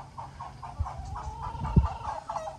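Chickens and a pair of Brahma roosters cluck and murmur close by on a homestead, a steady run of soft, overlapping calls with one sharper thump partway through.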